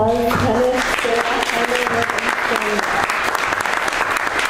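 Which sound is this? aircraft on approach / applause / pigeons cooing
applause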